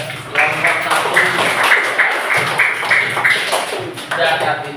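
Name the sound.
class clapping for a group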